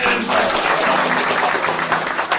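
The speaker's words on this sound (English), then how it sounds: "just perhaps one round of applause once more for our speakers" Diners at a party leadership dinner give the speakers a round of applause, dense steady clapping close by that fills the whole stretch without speech.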